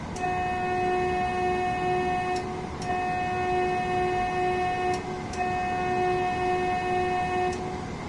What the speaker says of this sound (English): Is that a whistle? That's a whistle.